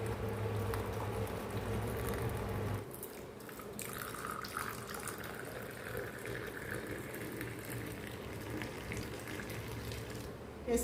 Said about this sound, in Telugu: ఇప్పుడు మనం ఒక గిన్నెలో వడపోసేసుకుందాము.